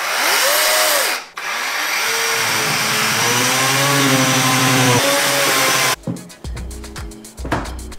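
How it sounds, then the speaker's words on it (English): A battery chainsaw whines loudly as it cuts through wood, pausing briefly, then resuming before stopping with some clattering and handling noises. "So I grabbed my battery powered chainsaw and went to work."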